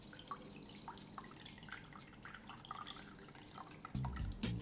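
A freshly shaken daiquiri pours through a julep strainer in soft, close trickling and dripping splashes, with a louder splash of liquid and ice chips near the end; no one speaks.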